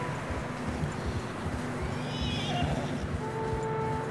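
A horse in Red Dead Redemption 2 clops along in a steady rhythm, with a brief whinny-like sound partway through against a busy background.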